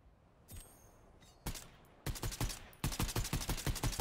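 Fortnite gunfire arrives first as two isolated shots, then as rapid bursts of sharp, evenly spaced cracks, each burst louder and closer than the last.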